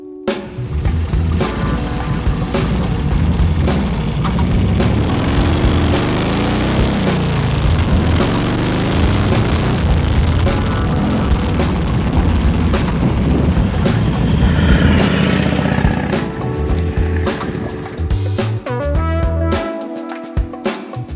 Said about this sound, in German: sitze hier auf meiner Harley Davidson Knucklehead von 1938. Es handelt sich hier um einen sogenannten Texas Stroker.